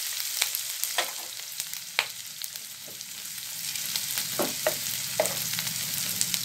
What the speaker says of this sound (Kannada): ಒಂದು ಈರುಳ್ಳಿ ಕೊಯ್ದಿರೋ ಸಣ್ಣಕ್ಕೆ ಸ್ವಲ್ಪ ಎಣ್ಣೆ ಫ್ರೈ ಆಗಲಿ